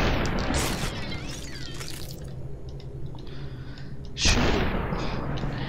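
Gunshots in the video game Superhot: a sharp, loud burst near the end breaks in over a steady, noisy game ambience.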